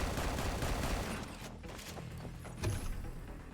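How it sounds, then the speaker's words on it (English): A regular gun fires rockets in Anvil, giving a faint, distant volley of shots and bursts, with a slightly louder impact near the end. "His regular gun kind of shoots rockets every now and then."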